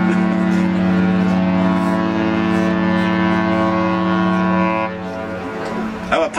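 The cruise ship Costa neoRomantica, some 60,000 tonnes of steel, sounds a long, deep, loud horn blast close by. The blast holds steady, drops away after about five seconds, and a little wind and handling noise follows.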